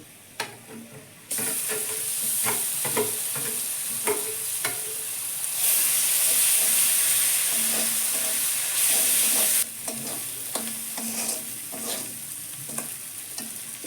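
A Bengali masala of ginger, garlic, turmeric, Kashmiri chilli powder and cumin powder fries in oil in a pan for doi katla. It gives a steady, close sizzle with repeated stirring scrapes, and a louder hissing burst partway through.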